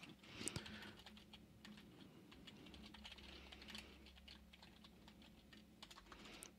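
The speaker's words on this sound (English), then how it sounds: "So I'm going to type that out here." Typing on a computer keyboard, a quiet, steady run of close key clicks in uneven rhythm over a low background hum, with no voices.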